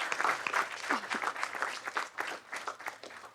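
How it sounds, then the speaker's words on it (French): A room full of people applauds at a commemorative panel marking the 35th anniversary of December 6, with brisk, close clapping that swells and fades over a few seconds while faint voices mix in. "Merci de l'applaudir."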